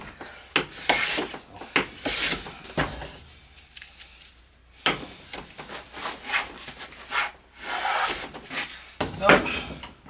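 Hand plane pulling full-width shavings off a wooden board, a series of long rasping swishes with brief gaps, close and fairly loud, with someone speaking in between strokes.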